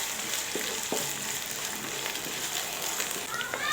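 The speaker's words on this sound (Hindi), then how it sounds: "इसको डालकर भी थोड़ा सा भून लेंगे" Sizzling oil with onions and ginger-garlic paste crushed with green chilli, frying in a pan for a meat curry, with a steady broadband hiss and a few soft stirring knocks.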